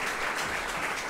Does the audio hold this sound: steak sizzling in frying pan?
no